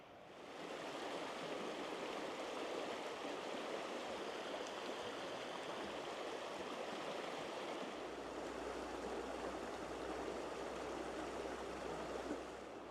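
Pine Creek runs over exposed bedrock in a continuous soft rush of water, fairly quiet and even, with a faint low hum joining partway through.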